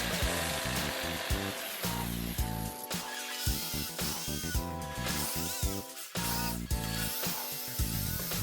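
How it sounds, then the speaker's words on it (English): A jigsaw buzzes loudly and close as it cuts wood, its motor pitch rising and dropping in short bursts, with brief pauses between passes. "I had to go with my trusty old jigsaw to cut it out."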